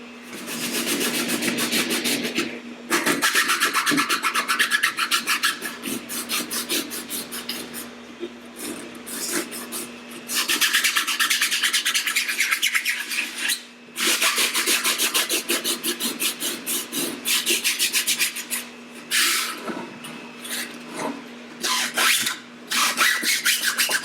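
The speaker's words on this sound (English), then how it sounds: "when building, we love to hand sand" Hand sanding a Mandalorian helmet build, with long rhythmic rasping strokes of sandpaper, close and loud, in bursts separated by short pauses.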